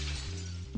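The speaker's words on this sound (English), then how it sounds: "I smash through the windshield with the same speed as the car had before it crashed" Windshield glass shatters in a car crash, heard as a single brief burst over a steady low hum that swells near the end.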